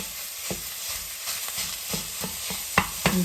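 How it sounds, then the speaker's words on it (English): Meat sizzles in a pan as peppers and onions are about to join it, a steady frying hiss broken by several sharp clicks and scrapes of stirring, louder near the end, with no voices. "Put the meat in there. This cooks up."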